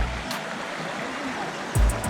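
Water from a secret waterfall in Kharghar, Navi Mumbai, flows in a soft, steady rush throughout, fairly distant and moderate, with brief clatter and a louder bump near the end.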